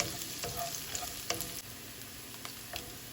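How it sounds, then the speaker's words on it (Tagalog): Garlic sizzles and crackles in a hot pan with ginger, with scattered stirring scrapes and pops, steady and close with no talking. "Again, saute this for another 30 seconds."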